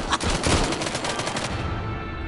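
Gunfire in the VR video game Arizona Sunshine, a quick burst of rapid close shots at the start that fades into a continuous rushing noise.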